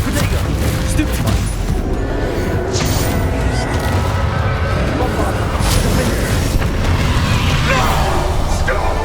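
Bombarda and Confringo spells explode during a Hogwarts Legacy battle: repeated heavy booms and crashes pile into a constant, loud combat din, with voices shouting over it.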